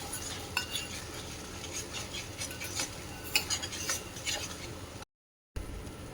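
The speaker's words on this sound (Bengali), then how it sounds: "তো এই যে সবজিটা বেশ ভালো করে এই যে নাড়াচাড়া হয়েছে" Vegetables for paneer bhurji being stirred in a pan, a continuous close scraping and clinking of a utensil against metal with small irregular taps.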